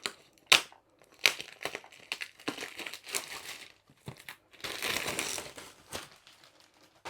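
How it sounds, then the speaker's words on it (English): Cellophane wrapping is pulled off a Diamond Art Club kit box, a close series of sharp crinkles and crumpling bursts with a longer rustling stretch near the end, loud and irregular, with no talk. "So the first thing we have to do is take the cellophane off."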